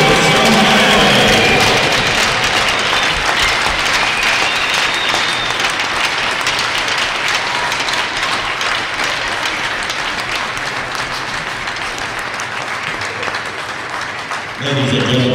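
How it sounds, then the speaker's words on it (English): An arena crowd at a Cornell women's ice hockey senior day gives a loud, sustained round of applause for a player, a thick roar of clapping and cheering that eases slightly before cutting off near the end. "Let's give a round of applause for number 19, Jillian Saulnier."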